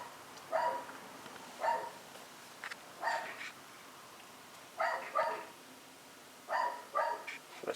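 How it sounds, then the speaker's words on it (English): A dog barks in the background indoors, about six short bursts of barking spaced a second or so apart, faint and somewhat distant, with no talking. "you could hear my dog barking in the background there"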